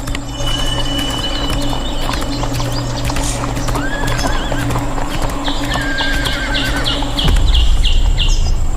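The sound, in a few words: horse hooves clip-clopping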